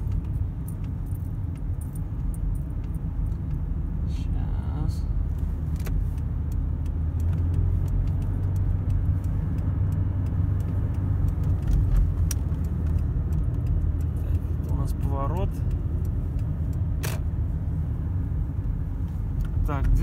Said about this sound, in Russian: Машина дергается, но продолжает ехать.